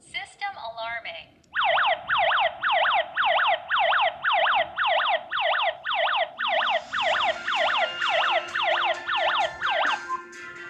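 A KERUI W20 WiFi GSM alarm panel's siren wails in a loud, steady series of rapid rising sweeps repeating about twice per second, close by, after a brief electronic chirp at the start.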